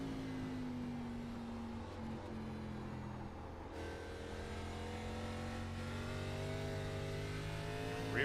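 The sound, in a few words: ARCA race car engine accelerating in a racing video game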